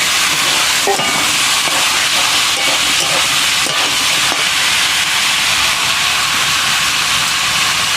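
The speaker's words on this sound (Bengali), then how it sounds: "এখন আমি এঁচোড়টা দিয়ে দেবো, দিয়ে ভালো করে কষিয়ে নেব।" Jackfruit sizzling as it goes into spiced oil in a pan, a steady loud hiss of frying that holds for the whole stretch, with a few faint clinks near the start.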